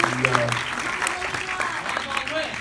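An audience claps steadily at a film festival talk, a dense wash of applause that carries evenly through the whole moment.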